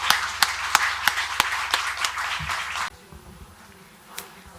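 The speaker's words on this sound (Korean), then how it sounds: "우리 하나님께 감사의 박수를 올려드립니다." A congregation at a church revival service claps in a steady, even rhythm, about a dozen crisp beats at moderate distance, then falls quiet into faint room noise.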